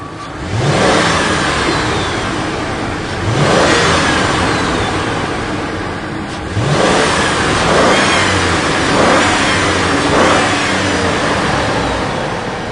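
A car engine, part of a car with every engine part replaced that still throws P0171 and P0174 lean codes, revs up repeatedly in loud surges that swell and fall back, with no talk over them.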